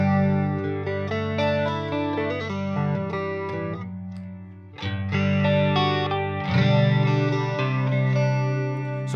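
Electric guitar chords and single notes played through a Strymon Timeline delay pedal set for a chorus effect, producing a shimmering, warbling tone that sustains continuously, with a brief dip in the middle before the playing swells again.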